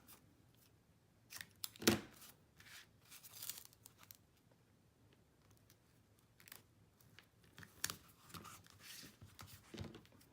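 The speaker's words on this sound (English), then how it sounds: "I'm going to cut long pieces here to fit the whole panel" Scissors snip through long strips of card paper for a sympathy card panel, a few sharp crisp cuts scattered among soft rustling and handling noises, close and fairly quiet.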